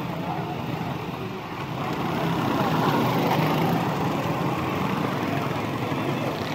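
A motorcycle engine runs on a Karachi road beside a pothole, heard as a steady, dense roar of close traffic that swells slightly midway and holds loud to the end.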